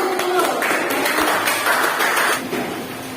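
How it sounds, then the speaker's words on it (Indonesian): Applause from a classroom of students fills the room, a dense steady patter of many hands that holds for a few seconds and then tapers off near the end. "Baik, beri tepuk tangan dulu"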